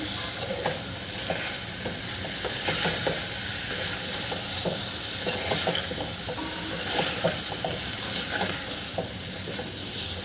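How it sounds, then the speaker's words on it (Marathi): Eggplant and potato curry with coriander being stirred in a pan, a continuous loud sizzle overlaid by repeated scraping, clinking spoon strokes throughout, heard up close with no speech. "दोन मिनटं तरी आपलं छान मिक्स करून घ्यायचं आहे भाजीला"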